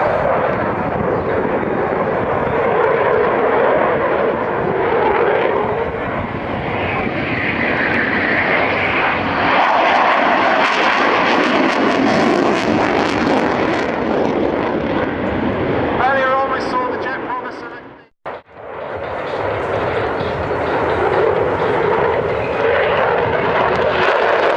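Aerobatic display aircraft engine droning loud and steady through a hesitation roll at the Dunsfold Wheels and Wings show, with a brief dropout near the end and an announcer's voice over the engine.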